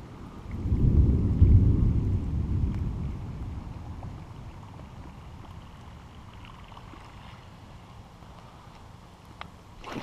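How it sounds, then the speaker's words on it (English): Thunder rumbles through a morning thunderstorm near a bass fishing spot in North Carolina, a deep rolling boom swelling early then fading into a steady hiss of rain. "Pounding thunderstorms this morning."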